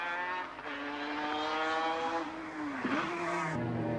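A Mazda RX-7 race car on a track drops down through the gears under hard braking, its engine note stepping down with loud rasping harmonics and a sharp blip near the end, heard alone and close.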